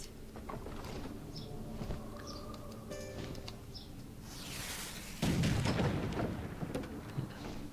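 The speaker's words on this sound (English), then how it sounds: "Here, turn the cannon and we'll make a shortcut." Cannon blasting at a wooden wall in the Pirate101 video game, a heavy boom near the five-second mark followed by rumbling impact and debris, with lighter game effects and chimes before it.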